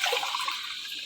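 Water pouring into a pot of lentils and mutton while cooking, a steady broadband splashing rush that runs near and fairly loud for the whole second with no talk over it.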